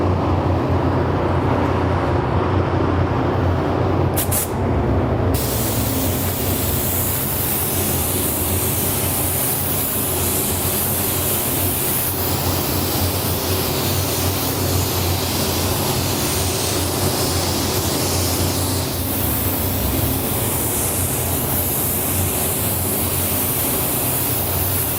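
A spray gun lays down Createx candy paint in a steady, loud hiss that runs continuously for the whole stretch after a short opening burst, close by with no voices.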